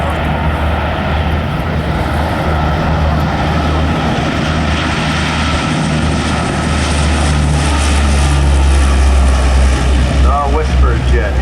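A four-engine C-130 military transport with 4,500-horsepower Allison turboprop engines rolls down the runway for takeoff at an air show, a loud steady propeller roar with deep low drone that builds slightly toward the end.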